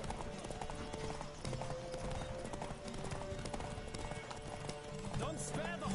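Horse hooves gallop in The Witcher 3, a rapid clip-clop rhythm running throughout with game music and riders' voices talking over it.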